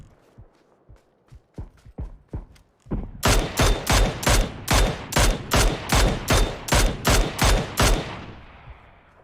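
Automatic gunfire in the battle royale game PUBG: a few sparse shots, then a loud, steady burst of rapid rounds repeating in even rhythm, close and dominant, with no talk over it.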